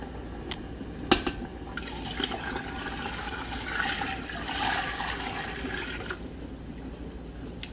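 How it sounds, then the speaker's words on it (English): Hot water pours into a canning pot holding jars of mango raspberry jam, a continuous close rushing fill punctuated by a few sharp clanks and splashes. "I'm going to get some hot water and fill this thing up till it comes up to 1 inch above these top jars"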